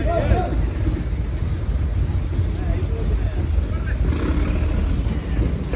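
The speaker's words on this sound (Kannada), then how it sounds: "ಇಲ್ಲಿ ಬೋಟ್ ಹೋಗ್ತಾಯಿತ್ತು ನೋಡಿ." A fishing boat engine at a harbour gives a low, steady rumble throughout, mixed with gusty wind noise on the microphone and a busy, noisy background.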